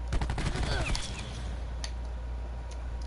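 Rapid automatic gunfire from the Maddox and Saug in Call of Duty Black Ops 4 bursts loudly for about a second, then tails off into faint ambient game noise with a few scattered clicks.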